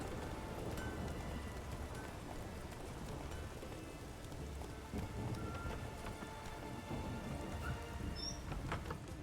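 Rain falling in the video game The Witcher 3, a soft, continuous patter of drops on surfaces that stays low and even throughout, with faint scattered ticks.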